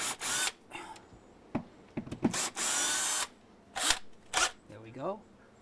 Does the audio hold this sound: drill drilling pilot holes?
yes